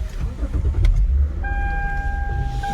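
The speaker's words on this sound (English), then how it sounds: "So let me start the car real quick." A Lexus GS-series sedan's engine starts with a cranking burst and settles into a steady idle with a sustained tonal whine, close and fairly loud, no talking.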